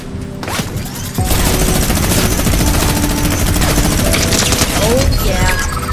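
Legendary minigun in a video game roaring in a continuous rapid burst of gunfire, loud and dense from start to end, with a voice talking over it.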